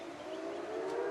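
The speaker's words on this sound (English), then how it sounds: "that's a siren. Yeah." A long, steady wailing air raid siren tone holds at a sustained pitch, slowly swelling in loudness with no voices over it.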